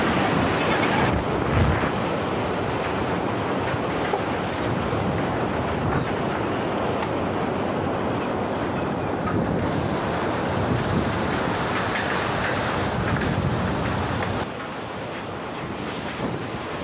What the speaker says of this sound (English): Water spilled into the city through lower roads and quickly flooded shopping malls, schools, and residential areas.